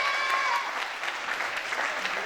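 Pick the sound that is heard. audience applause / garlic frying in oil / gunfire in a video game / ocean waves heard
audience applause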